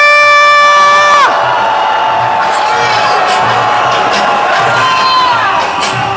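A large outdoor protest crowd at a winter rally lets out a loud, sustained roar of shouting and cheering, with whoops rising over the mass of voices after one sharp lead call opens it.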